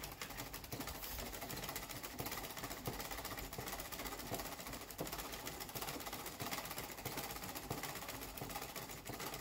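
A sewing machine runs continuously as a pocket's underside is stitched on a pair of shorts, with a dense, even mechanical whir and no pauses. Close, loud and steady, with no talking.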